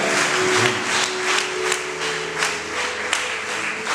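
A church congregation at a Rwandan Christian revival gathering applauds, with dense, sustained clapping from a large crowd swelling in uneven waves.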